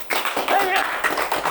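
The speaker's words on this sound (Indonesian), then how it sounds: "Tepuk tangan untuk Tuhan." Congregation in a church clapping for God in a burst of sharp, busy applause, fairly close and loud, with a voice speaking over it.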